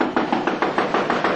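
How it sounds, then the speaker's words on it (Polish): Rapid, even knocks pound on a door, about eight thuds in under a second and a half, loud and close with no voices. "Kto tak wali do drzwi?"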